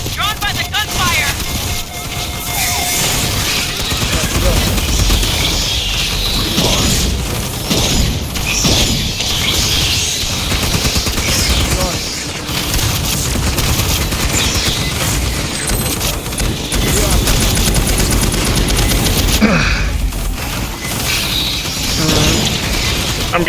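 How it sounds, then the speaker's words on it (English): Repeated gunfire and booms rattle through busy action in the video game Aliens: Fireteam Elite, with mechanical clanks and a voice talking over the shooting. "Drawn by the gunfire."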